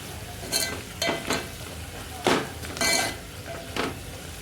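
Roti chevdo seasoned with garam masala is stirred in a pan, with a series of scraping, rustling strokes over a gentle background sizzle.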